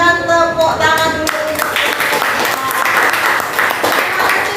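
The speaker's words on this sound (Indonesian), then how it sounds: "Kita berikan tepuk tangan dulu." Classroom students applaud a group at the front, a broad wash of clapping that follows a brief tonal sound at the start and runs steadily to the end, with faint voices mixed in.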